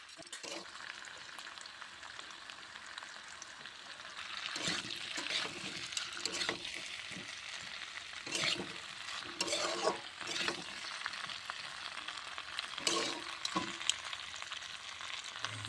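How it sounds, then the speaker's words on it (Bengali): Fried potato and vegetable stems being stirred into spice paste in a pan while cooking Rohu fish curry, giving a steady scraping stir over a soft, continuous oil sizzle, with a few louder scrapes and clinks. "আলু ডাঁটা ভেজে মশলার মধ্যে দিয়ে একটু ভালো করে নেড়ে চেড়ে নেব"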